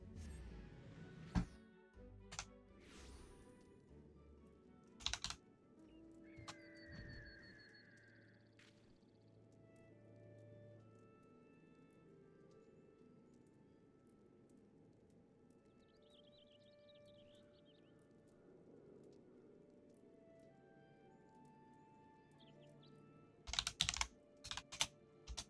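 Computer keyboard typing comes in scattered bursts of quick clicks, close and fairly quiet, with long gaps of faint background sound between them.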